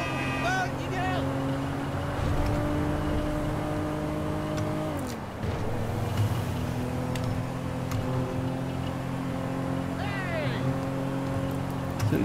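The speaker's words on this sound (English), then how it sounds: "It's a nice long drive in a not very fast car. It sounds nice." A not very fast car drives along in GTA 5 Online, its engine holding a steady droning hum with a brief dip midway, heard close and continuous.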